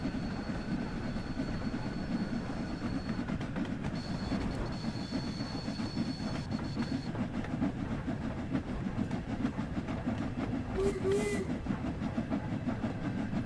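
A steam locomotive runs in Train Sim World 2 on the Spirit of Steam rail tour at Horseshoe Curve, with a continuous low rumble of rolling wheels and cars, faint high tones and a brief squeal near the end.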